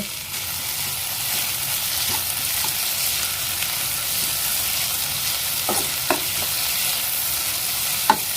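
Steady frying sizzle of chopped onions and tomatoes in a pan for Tamil poori potato curry, with occasional clinks of a utensil stirring, continuous and close, with no voices.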